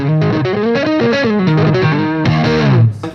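An overdriven electric guitar with both pickups in single coil mode, tone and volume fully up, playing a quick distorted melodic riff, loud and close with no talk.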